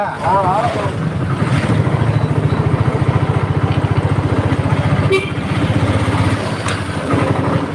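A motorcycle engine runs steadily on a trip around Pondicherry, its rapid even throb continuing for several seconds with voices talking over it.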